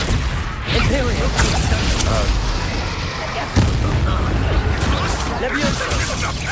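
Confringo blasting-spell explosions in the video game Hogwarts Legacy, repeated booming bursts over a rumbling battle din, with one sharp blast standing out midway and character voices speaking over the action.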